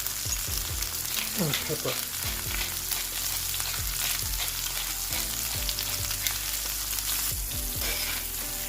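Mushrooms sizzle and crackle steadily in a hot pan, with occasional stirring knocks and clatter throughout; a person speaks briefly over the frying.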